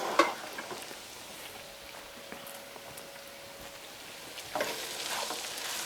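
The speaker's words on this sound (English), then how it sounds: "And now we're gonna stir fry this." Rice with a little chopped onion being stir fried in a pan, a soft steady sizzle with a faint scrape of the utensil at the start and again near the end, no voices.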